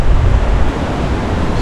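Strong wind and ocean waves on a coast in Miyazaki Prefecture, Japan, a steady loud roar of gusts and surf with a deep rumble, continuous and close with no voices.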